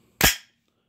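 Ruger P89 pistol being decocked, a single sharp metallic snap of the hammer dropping, close and loud, then silence.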